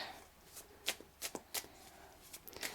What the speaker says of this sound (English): Okay, I'll pull one more card.